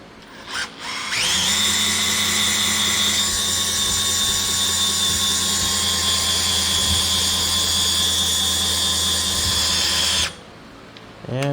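A hand drill spins through an adapter to crank the knee of a Bridgeport vertical mill in low gear, a loud steady motor whine with grinding gear hum running about nine seconds before it stops.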